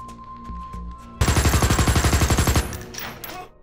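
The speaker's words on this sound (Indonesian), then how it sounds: "Adam pun mulai menembak." In a realistic shooter video game, a single long burst of rapid automatic gunfire rings out loud and close, a fast even stream of shots, with quieter game sounds before and after.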